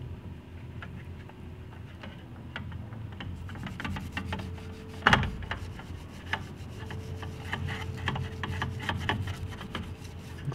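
Rust being scrubbed off a vintage BMC No. 7 pressure lock wrench after an overnight vinegar soak, a close, continuous scratchy rubbing with one sharper knock partway through.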